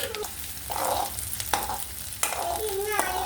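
Ginger, green chili and onion hit hot mustard-seasoned oil, giving a steady close sizzle broken by a few sharp clattering stirs of a spoon against the pan.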